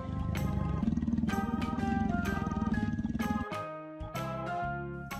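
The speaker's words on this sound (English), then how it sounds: "Leopard." Leopard sound presented as part of an animal-naming lesson: a rhythmic, tonal roaring-like passage with bright layered harmonics, ending in a sharp break followed by shorter tonal bursts, loud and close with no talk.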